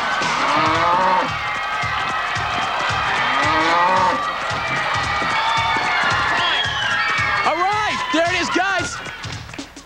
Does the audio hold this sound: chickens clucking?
no